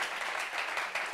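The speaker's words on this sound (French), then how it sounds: "On applaudit" An audience at a gathering claps briefly, a short, fairly quiet patter of many hands with a few distinct louder claps, lasting about a second.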